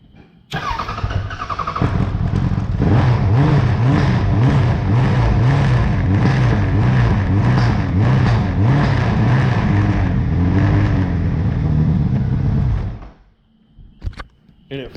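A motorcycle engine catches abruptly, then settles into a loud, throbbing idle that runs steadily for several seconds before cutting off.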